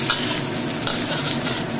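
Minced ginger stir-frying in a hot wok: a close, continuous sizzle with scraping stirring strokes on top, steady and unbroken for under two seconds with no voices.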